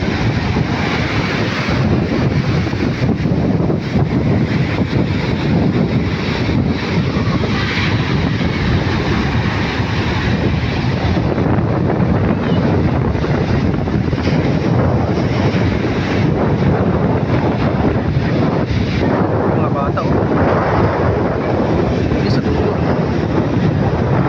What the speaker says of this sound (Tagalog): Malakas pa rin talaga yung hangin.